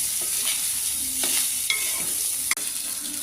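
Cooked rice is stirred into mango pulihora in a frying pan, with continuous soft sizzling and scraping of a spoon against the pan, a sharper clack near the end, and no voices.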